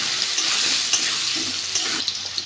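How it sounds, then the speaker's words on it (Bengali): Potatoes frying in hot oil with salt and turmeric, a loud bright sizzling hiss close up with a few soft stirring knocks, brief and without speech. "তেলটা গরম হয়ে গেছে, আলুগুলো ভেজে নেব।"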